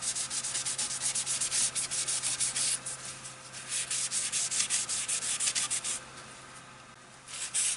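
Finish is rubbed onto a turned red cedar piece, heard as close, loud, rhythmic swishing strokes that repeat steadily with short pauses, probably with the piece spinning on the lathe, and no talking.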